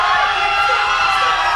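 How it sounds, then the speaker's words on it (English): Crowd at a Schmoedown event cheering and rooting loudly, a steady dense roar of shouts and whoops with no break. "The crowd rooting for Street."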